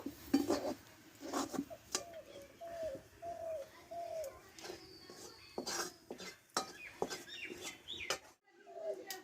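A pot of cooked carrot paste for carrot dudh puli is handled and lifted off the stove with repeated metallic clanks and scrapes of pot and utensil, while pigeons coo in the background.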